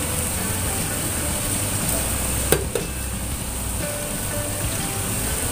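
Ground spice paste that was already fried sizzles steadily in a pan as it is stir-fried for a spicy coconut-milk dish of salted fish with tempeh and tofu, a continuous close hiss with one brief clatter midway.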